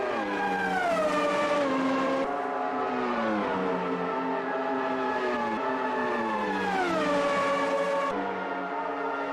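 Formula One car engines scream around Interlagos in Automobilista 2, loud and sustained, with high-pitched revs rising through the gears and falling sharply under braking several times.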